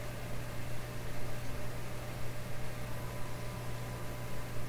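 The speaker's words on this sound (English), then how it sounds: "I can hear the crackly, quiet, boiling water sound" Continuous hissing static with a low steady hum underneath from an Eveready Model 32 radio during tuning, a quiet crackly noise with no voices.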